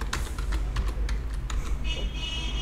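Quick typing on a computer keyboard as a business category is entered, a brisk run of close, crisp key clicks over a low steady room hum, no voices.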